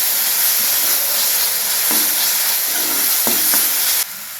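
A paste of coriander, ginger and garlic fries in hot oil with a loud, steady sizzle and a few stirring scrapes, for a soybean vegetable dish. The sizzle cuts off abruptly at the end.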